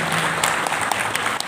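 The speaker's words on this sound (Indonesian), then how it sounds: "Kasih tepuk tangan buat Mas Awam." Continuous crowd applause at a meet-and-greet event in Kebumen, dense clapping with a few sharper claps standing out, moderately loud and without speech.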